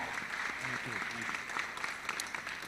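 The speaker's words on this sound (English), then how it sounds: "Let's have a round of applause for him as well." Steady audience applause greets a candidate at a community candidate debate, a continuous wash of clapping heard throughout with a voice talking over it.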